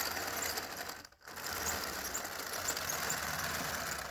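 Plastic tracks of a Cobi Jagdpanzer E100 toy tank squeal and whir mechanically as it rolls across carpet, a continuous close grinding that briefly drops out near the start.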